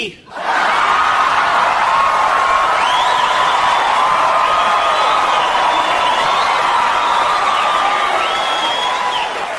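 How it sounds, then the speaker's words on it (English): A stand-up comedy audience breaks into sustained loud applause mixed with cheering, whoops and laughter, a dense crowd roar that holds steady for several seconds. "Now see, you guys are clapping and you're laughing because you know."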